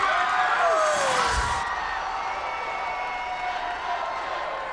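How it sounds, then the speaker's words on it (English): Arena crowd roaring and cheering through a 2008 gymnastics floor routine by Kari Pearce, a steady loud wash of voices and whoops with a swell near the start, a commentator talking faintly underneath. "Listen to that crowd roar"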